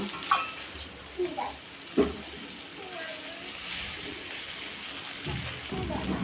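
Pasta is stirred in a frying pan, soft sizzling and scraping with a few distinct utensil knocks near the start, heard under a voice talking.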